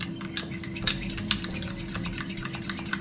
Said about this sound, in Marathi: साखर घालते थोडीशी आणि हे छान फेटून घेते